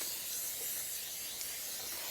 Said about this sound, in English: So let's spray our pan.